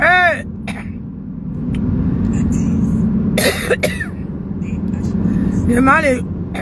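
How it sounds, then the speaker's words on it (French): A person coughs a few times, short harsh bursts near the mic, over a background rumble of passing traffic. "plus je mange les fruits, plus je tousse"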